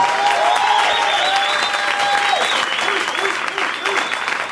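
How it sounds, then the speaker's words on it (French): Audience at a slam poetry event breaks into loud, sustained applause for Nada, dense clapping with whistles and cheers on top, and voices faintly audible beneath. "Je demande de faire un grand, grand tonnerre d'applaudissements pour Nada"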